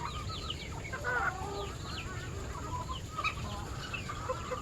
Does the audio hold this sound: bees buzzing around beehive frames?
no